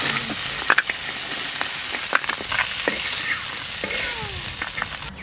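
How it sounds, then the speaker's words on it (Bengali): Steady, close sizzling and frying in a wooden-handled kadai while cooking Sundarbans river crab, with ingredients being stirred and occasional clinks of a utensil. "ভাজা হয়ে গেছে, এবার তুলে নিই।"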